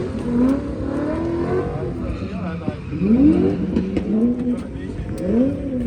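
A car drives and accelerates, engine note rising and falling through several revving sweeps with steady road rumble underneath, close and loud, while people talk inside.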